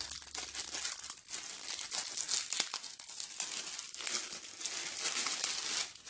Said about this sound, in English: Let's take this cellophane off it.